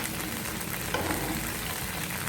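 Sliced okra fries in a pan with a dense, even sizzle, broken by a brief utensil scrape as the pieces are mixed together, no voices.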